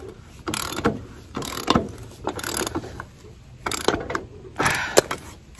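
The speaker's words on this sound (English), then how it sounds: "So I'm just gonna hold this side here and crank the other side." Hand wrench ratcheting a bolt on the solid no-flat wheel of a Toro TimeCutter zero-turn mower, in several quick bursts of metallic clicking with short pauses between them, close up and with nobody talking.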